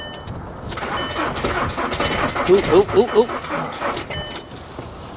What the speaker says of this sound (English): It's cranking like it's 12 degrees outside.